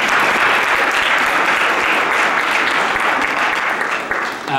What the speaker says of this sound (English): I just give a round of applause to the presenters.